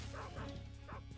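A guard dog in Metal Gear Solid 3 barks sharply two or three times at close range, the short yips and woofs coming in a quick burst.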